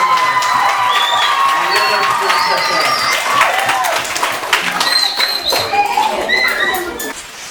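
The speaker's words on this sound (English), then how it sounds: "Let's put a big round of applause for her." A crowd at an award ceremony honoring a primary school staff member applauds and cheers: loud clapping mixed with whoops, shouts and excited voices, staying lively before easing slightly toward the end.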